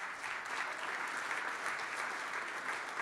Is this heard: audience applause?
yes